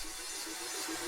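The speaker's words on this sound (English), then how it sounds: "And also I added the riser" A riser effect in an FL Studio Afrobeats guitar beat builds as a steady bright wash of noise, with faint pulsing tones underneath, holding loud and even throughout.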